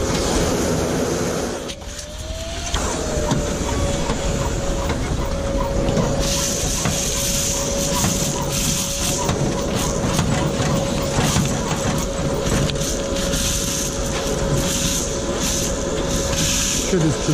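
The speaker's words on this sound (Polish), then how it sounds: "idziemy teraz odkurzać siewniczek" A steady vacuum cleaner drone runs throughout as a vacuum cleans out a seeder, with a long whining tone and people talking over it now and then.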